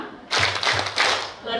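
A group clapping along to a rhythmic clap chant at a church family gathering, a few firm claps in rhythm with chanting voices underneath.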